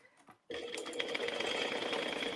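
After a moment of soft handling noise, a sewing machine bastes around the edge of a circle bag at an eighth-inch seam allowance, running in a fast, steady whir close by.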